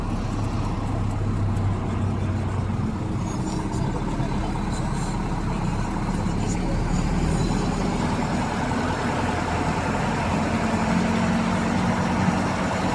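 Heavy road traffic in Bicutan with idling trucks and buses, a constant low engine rumble and diesel drone close by, with faint distant horns and a voice speaking over it.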